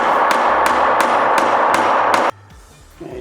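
A hammer strikes scrap wood in about seven quick, evenly spaced blows, loud and close over a dense rumble, then stops abruptly, leaving near quiet.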